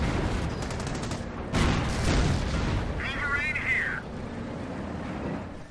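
Machine gun fire in a World War II real-time strategy match, rattling bursts mixed with booms of tank and artillery fire under a commentator's steady voice, fairly distant.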